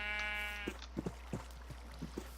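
A sheep in the Minecraft video game gives one short, quavering bleat. It is followed by a few faint, soft taps, and the whole passage is quiet.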